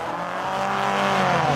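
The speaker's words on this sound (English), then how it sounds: "here's a Giulietta Sprint Veloce racing in the GT race" An Alfa Romeo Giulietta Sprint Veloce competing in a GT race at a retro sports car event, its engine holding a steady, loud, buzzing drone that swells slightly as the car draws nearer, with no voices.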